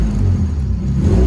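A Honda Civic engine idles too low, giving a steady low rumble with a slightly uneven, lumpy pulse, close and continuous with no voices.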